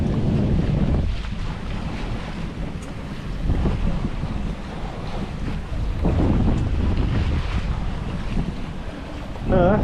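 Near a sailboat at sea on the way to Frioul, a motorboat engine rumbles steadily and loudly under constant wind noise and waves, swelling in bursts as the boat passes close by.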